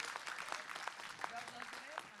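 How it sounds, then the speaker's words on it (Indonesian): Audience clapping for a speaker at an Islamic lecture event, a faint, uneven patter of hands heard alongside voices, fairly quiet and distant. "Tepuk tangan dong buat Habib Muhammad."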